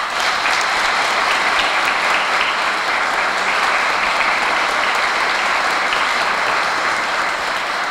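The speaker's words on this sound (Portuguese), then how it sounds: "uma salva de palmas" Sustained applause from a large church congregation during a solemn Mass fills the space, steady and dense clapping throughout with no break.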